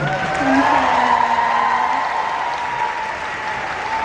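An audience applauds the actors on a red carpet at a Thai drama premiere, dense continuous clapping with a sustained tone running beneath it.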